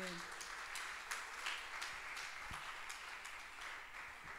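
Applause rises from a congregation at a women's church conference, a steady wash of clapping hands filling the room evenly and at moderate distance, with no talking over it.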